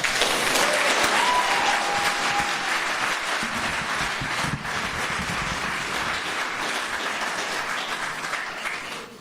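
An audience at a Calgary public talk event applauds loudly and steadily for about nine seconds, a dense wash of clapping that fades slightly near the end.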